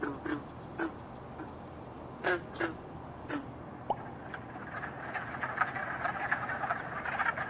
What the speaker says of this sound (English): frogs sing or call to attract mates